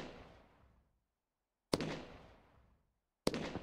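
Firework cake from a Pyroworks mod in a video game, sharp bursts each trailing off into a fading crackle, two separate shots after an earlier decaying one, with no talk.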